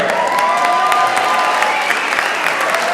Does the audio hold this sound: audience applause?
yes